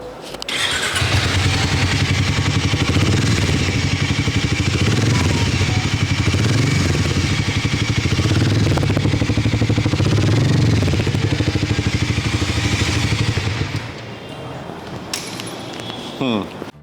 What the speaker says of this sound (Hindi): अगर मोटरसाइकिल हार्ले जैसी आवाज कर रही है इसका मतलब वो एक हार्ले है